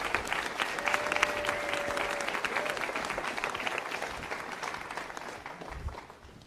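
An audience at a St John's College Santa Fe fall convocation applauds the incoming liberal arts students, with dense, steady clapping filling the hall for about six seconds and easing slightly near the end.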